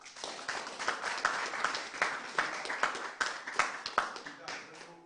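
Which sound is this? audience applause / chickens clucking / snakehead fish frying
audience applause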